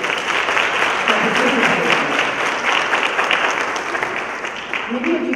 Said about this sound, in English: we want to applaud you on behalf of the school